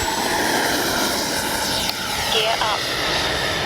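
A FlyFans L-39 64mm electric ducted-fan RC jet makes a steady, loud high-pitched whine as it makes a low, fast pass down the runway. Someone talks faintly beneath the sound.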